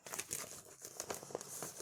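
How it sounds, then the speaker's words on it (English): Brief, close crinkling and rustling of a plastic mesh bag being handled, quick irregular crackles with no voices. "Amazon plastic bag, mesh bag."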